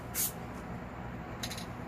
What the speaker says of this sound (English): I'm going to spray some spray adhesive onto this